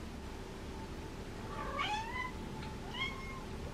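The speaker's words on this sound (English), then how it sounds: "Nancy came to see what Sammy was meowing about." A cat meows a few times in an indoor setting, two short rising calls around the middle followed by another brief meow, moderately close over a steady low room hum.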